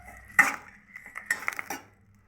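Dried red chillies and curry leaves being dry-roasted in a pan, with a few metallic clinks and scrapes of a utensil against the pan and short rattling stirs, fairly quiet with no talking.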